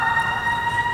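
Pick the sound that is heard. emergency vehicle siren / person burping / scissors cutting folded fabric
emergency vehicle siren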